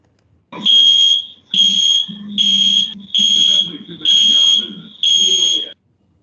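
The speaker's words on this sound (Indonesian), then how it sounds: "Berikut adalah contoh dari bunyi alarm fire yang ada di BAT Indonesia." A fire alarm at the BAT Indonesia site blares in six loud, evenly spaced bursts of a piercing electronic tone, each lasting about a second with short gaps between.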